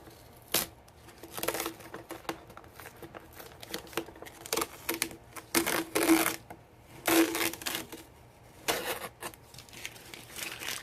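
Masking tape being peeled off a 3D-printed flatbed part for a Spyker KAT tracked vehicle model, heard as several short crackling, ripping bursts separated by quiet pauses, close and fairly soft.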